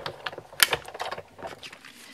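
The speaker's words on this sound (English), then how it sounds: "And now we'll run it through our die cut machine just like normal." A die cut machine cranking a stitched journaling card through, giving a run of small mechanical clicks and ratcheting ticks with one sharp louder snap, close and brief.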